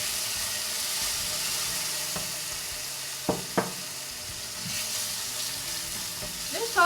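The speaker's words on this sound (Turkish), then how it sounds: "Salçamızı da kavuruyorum." Tomato and pepper paste frying with onions in a pot, an even sizzle with a few sharp clinks of a ladle and soft bubbling near the end, close and without talk.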